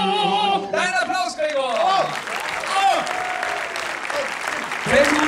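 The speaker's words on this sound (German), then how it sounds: "Ein Applaus," An audience in a cinema auditorium breaks into applause right after a birthday song. Voices and a sung tail fade into steady crowd clapping with some cheering.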